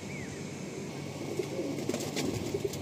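A tiger line pigeon cooing softly amid a steady background hum, a few low murmuring coos with faint chirps nearby, moderately distant and quiet.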